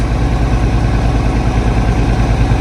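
An International Harvester 1586 tractor's diesel engine idles loudly and close after a cold start, a steady, rapid low throb with a constant rumble and no talking.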